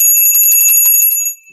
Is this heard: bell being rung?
yes